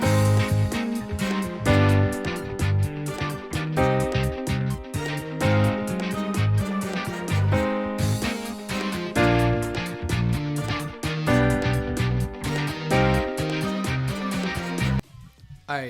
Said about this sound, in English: all together now with the piano, it sounds like this.